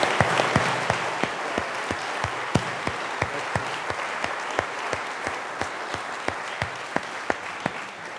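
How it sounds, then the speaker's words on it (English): Audience applause for a speaker at a speaker series talk, with sustained clapping from a seated crowd and distinct individual claps standing out steadily, even and fairly near. "Let's round of applause."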